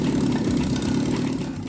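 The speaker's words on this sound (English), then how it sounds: "The engine reaches temperature after a few minutes," A car engine idles steadily while warming up to temperature, a continuous close, low rumbling hum with no breaks, heard alone.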